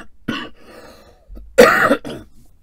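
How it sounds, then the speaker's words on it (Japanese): Several harsh coughs from a nearby person, a short one followed by a louder, rougher burst and a final smaller cough, with quiet pauses between. "咳やばいっすね、ちょっと。"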